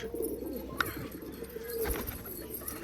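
Pigeons cooing softly in a hot-weather setting, low throaty coos repeating against faint background noise, with a brief sharper bird sound mid-clip.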